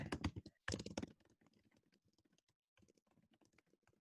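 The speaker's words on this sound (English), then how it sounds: "I've been typing while you've been adding things" Quick irregular bursts of typing on a computer keyboard, a few heavier key strikes early on followed by lighter, faint clicking with brief pauses, with no voices.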